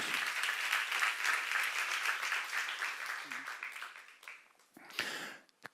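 A church seminar congregation claps in thanks, a loud dense burst that thins and fades out, followed by a few isolated claps and a short voice at the end.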